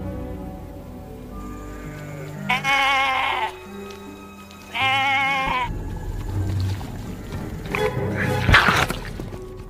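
Sheep bleat in several loud, wavering cries that come in separate bursts with pauses between them, close by, over a low background rumble and some clatter.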